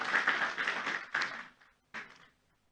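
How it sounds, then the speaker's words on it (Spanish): A church congregation at a Sunday service applauding a choir, a dense burst of clapping that fades out, followed by a shorter second flurry of claps. "Un aplauso fuerte más para"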